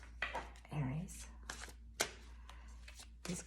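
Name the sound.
shuffling large tarot cards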